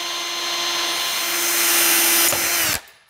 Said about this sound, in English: Before we tap, we have to drill.